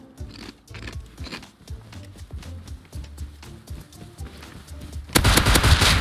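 Gunfire in the survival video game Rust, a rapid series of sharp shots in irregular bursts through most of the span, ending in a loud, dense volley of fire at the close.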